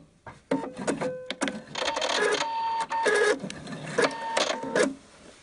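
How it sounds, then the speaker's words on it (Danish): Sewing machine stitching a close zigzag to secure the seam of a square patch on a trouser leg, rapid mechanical chattering in several bursts separated by brief pauses, close and clear. "Og jeg slutter lige af med at hæfte sømmen her."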